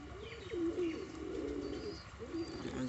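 Deshi Golla pigeons coo close by in repeated soft rolling calls, a few rising and falling phrases with slight overlapping murmurs.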